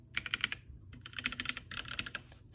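Fingers type on a Womier K87 mechanical keyboard fitted with Gateron red switches, two quick close bursts of soft, rapid keystrokes separated by a short pause.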